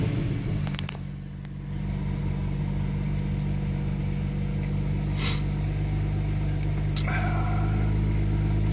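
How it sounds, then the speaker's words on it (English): A BMW car engine cranks and catches, then settles into a steady idle that runs close and loud to the end, with a few faint clicks over the low hum. "We'll crank up the car."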